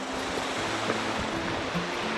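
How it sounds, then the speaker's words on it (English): A creek or river flows in a steady, broadband rush of moving water, heard close and continuous, with no voices over it. "here's a creek or the river right here"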